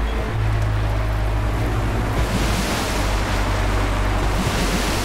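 Crossing a river in Metro Exodus: a continuous loud wash of rushing water and surf-like waves blended with wind noise and a low engine-like drone, steady throughout with no talk.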